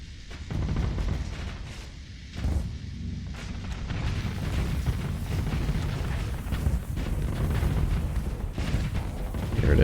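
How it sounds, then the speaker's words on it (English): Heavy weapons fire and repeated explosions in the space combat game Starsector form a dense, continuous roar of booms and blasts, loud and sustained for the whole stretch. "let us fire the bullets"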